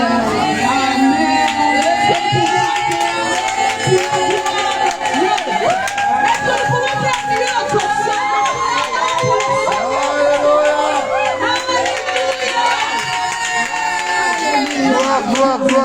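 Lively church congregation cheering and acclaiming in worship, loud and continuous with voices, clapping and musical tones blended together for the full stretch.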